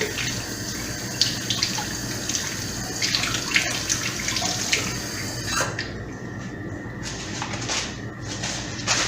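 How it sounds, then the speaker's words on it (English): Tap water running into a kitchen sink while hands are washed, a steady rushing splash close by that thins and becomes more intermittent toward the end. "Let me wash my hand off real quick."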